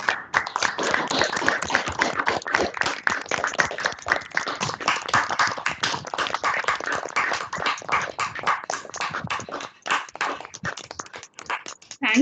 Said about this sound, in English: give a round of applause to Ashish for a really wonderful session.